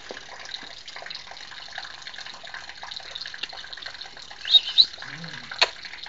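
Water trickles in a thin, steady stream from the spout of a laundry tank while a cat drinks from it, a faint continuous splash with a couple of brief louder chirps near the end and soft voices nearby.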